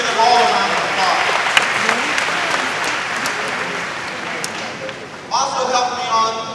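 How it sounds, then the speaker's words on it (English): Crowd applause for school board members at a school recognition ceremony, a dense burst of clapping that fades, then gives way to speech and a brief return of clapping and voices at the end. "Please give them all a round of applause."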